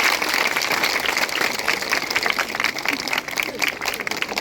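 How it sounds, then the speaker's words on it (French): Steady applause from a crowd for students at a high school quiz club event, a dense patter of clapping held throughout, with a voice speaking over it. "ils méritent des applaudissements"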